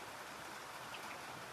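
Steady rain falls in a forest setting, a soft, even hiss of drops filling the whole moment without any break or nearby voices.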